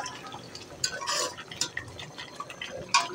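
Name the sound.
stirring garam masala spices in a pot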